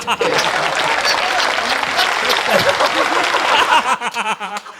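An audience at a comedy poetry recital breaks into loud applause after a poem, with scattered chuckles mixed in. The clapping fades out at the end.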